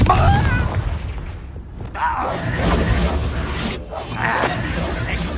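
Confringo blasting spell going off in Hogwarts Legacy, a loud booming crash with shattering debris that quickly decays into rumbling, crackling clatter, with a voice heard over it.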